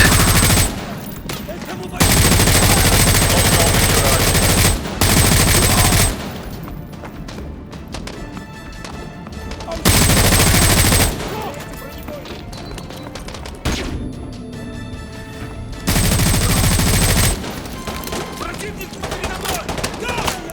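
Gunfire in Call of Duty Modern Warfare 2, several loud sustained bursts of automatic fire alternating with quieter stretches of distant shots and battle noise.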